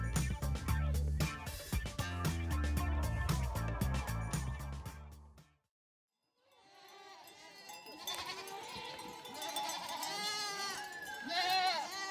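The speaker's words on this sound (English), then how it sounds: "we could hear like a little baby goat screaming, looking over this fence" A baby goat bleats repeatedly in high, wavering cries from behind a fence in Lower Mustang, Nepal, with music playing before a brief silence and some background voices.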